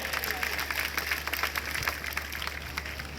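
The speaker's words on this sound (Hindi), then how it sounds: "एक बार जोरदार तालियां खुद के लिए" An audience at an evening tribute event for martyrs in Gogasar claps together, a continuous crackling applause at moderate distance with a low steady hum underneath.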